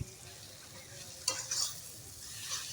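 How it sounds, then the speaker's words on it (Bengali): Onion being stirred in a pan with chili, cumin and ginger paste, a soft sizzle underneath with a few scraping spoon strokes and clinks against the pan, fairly quiet overall. "এবার ওই পেঁয়াজটার সঙ্গে ভালো করে এটা মিক্সড করে নিলাম।"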